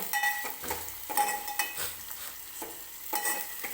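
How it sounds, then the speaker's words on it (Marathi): Onion and garlic frying in oil in a pan, a faint steady sizzle broken by repeated spoon scrapes and clinks against the metal, close by, no voices. "कांदा छान असा तेलात भाजून घ्यायचा आहे आपल्याला"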